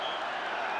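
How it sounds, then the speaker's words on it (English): A football crowd applauding Rangers, producing a brief, dense wash of clapping at a steady level with no pauses. "And some encouragement from the crowd for Rangers"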